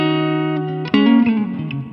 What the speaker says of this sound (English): Just a clean with a really nice reverb